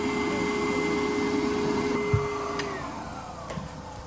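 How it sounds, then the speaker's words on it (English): A Foredom Wolf sandblaster runs with a steady loud hiss and drone as it blasts to clear its nozzle, with a couple of brief knocks and clicks near the end. "now I'm going to power up the sandblaster and blast a little bit to make sure anything that's in the nozzle empties out"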